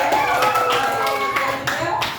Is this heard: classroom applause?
yes